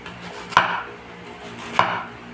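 White onions are sliced into thin strips on a board, with two distinct, close knife chops about a second apart over quiet background.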